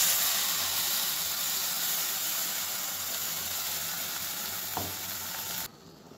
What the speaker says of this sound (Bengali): এরপর ভালো করে কষাবো মশলার সাথে সবজিটা